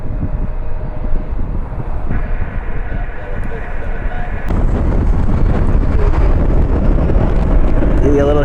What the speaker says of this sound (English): The wind is definitely picking up.